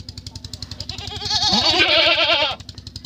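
A goat bleats during village-style hand milking, one long wavering bleat of about a second up close, over a steady rhythmic pulsing sound that runs throughout.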